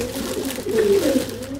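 Pigeons at a pigeon loft give low, throaty cooing, a close and fairly loud rolling coo that swells in the middle of the brief stretch.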